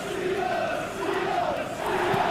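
A football stadium crowd in the video game PES 21 keeps up a steady, dense roar with rising chant-like swells. The sound is continuous and fairly loud, with no clear speech on top of it.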